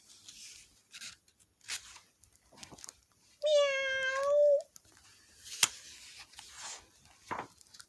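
A single drawn-out cat meow rises clearly in the middle, surrounded by quiet scattered rustles and light taps.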